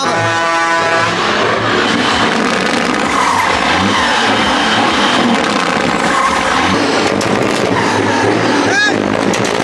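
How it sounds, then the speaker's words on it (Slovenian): An American Caterpillar diesel engine of the kind fitted in excavators revs loudly at a motor event in Logatec, a dense continuous roar with people talking over it and a brief sharp squeal near the end. "To je ameriški motor Caterpillar, ki je tudi ugrajen v bagarja in zadeva."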